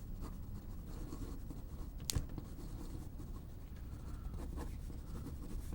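A pencil scratches and rubs across paper while sketching comic book art of a jet fighter's smoke trail: soft, continuous close strokes with one sharper tap partway through, and no talking.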